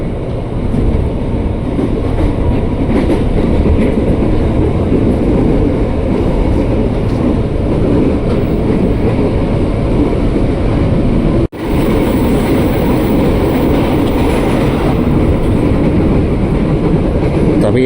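A KRL Commuter Line electric train of eight cars runs steadily, its loud continuous rumble and rail noise filling the whole stretch, with one brief dropout near the middle.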